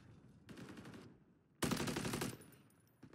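Automatic gunfire in a first-person shooter video game, two loud rapid bursts with a short gap between them, heard alone without talk.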